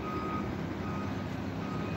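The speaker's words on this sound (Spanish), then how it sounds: "Aquí ese sonido que se escucha es un tráiler que están metiendo aquí esta empresa" Steady repeating reversing beeps from a semi-trailer truck backing into a Nestlé plant, heard at a distance over a constant low rumble of engine and background noise, with no talking.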